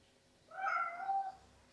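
A house cat gives one clear, drawn-out meow of just under a second, fairly close and moderately loud in a quiet room, with no voices over it.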